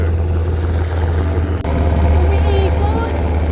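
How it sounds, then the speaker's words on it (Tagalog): A helicopter flies over near Zabali Lighthouse in Baler, Aurora, giving a loud, constant low rotor and engine drone that fills the scene, with people talking underneath. "May helicopter."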